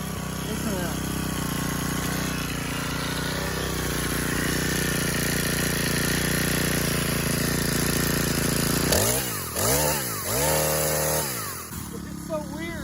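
A cheap chainsaw engine runs steadily with an uneven buzzing tone, then revs up and down in several surges near the end. The carburetor needs adjusting.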